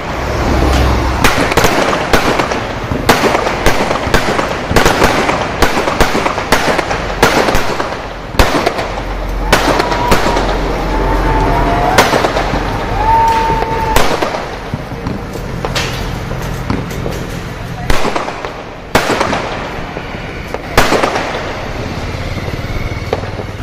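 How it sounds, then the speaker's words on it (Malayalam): Loud firecrackers and fireworks set off on a hospital roof crackle in rapid, irregular bursts of sharp bangs, with sustained popping and crackle between them, close and continuous throughout. "ആശുപത്രിയിലാണ് വൻ ശബ്ദമുള്ള പടക്കങ്ങൾ പൊട്ടിച്ചത്"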